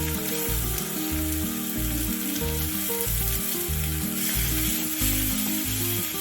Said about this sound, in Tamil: அதுவும் பச்சை வாடை போகிற அளவுக்கு வதக்கிக்கோங்க.